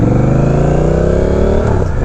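A Honda Rebel 1100 cruiser fitted with a new aftermarket exhaust pulls away under acceleration, a loud deep engine note rising steadily in pitch as it revs up, close to the microphone.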